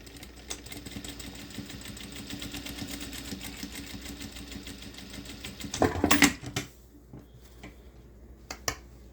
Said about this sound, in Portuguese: Agora, a gente vai lá pra máquina de costura pra finalizar aqui a nossa camisa.